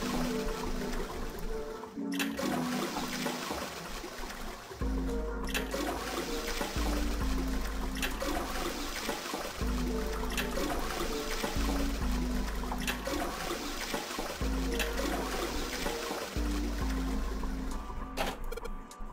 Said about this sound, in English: I heard a loud flushing noise.